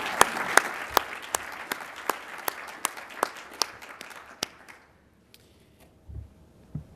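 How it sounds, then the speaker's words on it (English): A conference audience applauds in a hall, dense clapping with sharp individual claps standing out, then the sound thins and dies away after about four and a half seconds, leaving near silence. "So if you'd all just give a round of applause to Elaine."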